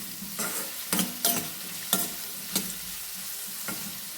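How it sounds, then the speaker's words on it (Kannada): A large onion fried in a pan sizzles softly beneath a series of distinct spatula scrapes and clinks, about six strokes spaced irregularly, close and fairly quiet with no speech. "ಇದು ಕೆಂಪಗಾಗೋ ತನಕ ಹುರ್ಕೋಬೇಕು."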